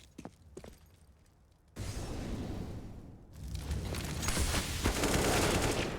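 AK rifle gunfire in the Counter-Strike video game, sharp isolated shots at the start giving way to a dense, loud fusillade of sustained rapid firing and bursts.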